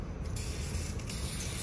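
A continuous hiss of aerosol lubricant sprayed onto a garden tool, steady and close, lasting the whole moment without any voices.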